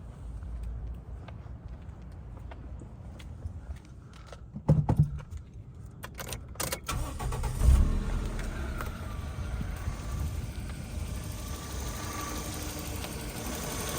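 Keys jangle and clunk, then a 1996 Toyota Starlet Glanza S engine cranks and starts and settles into a steady, moderately loud running hum.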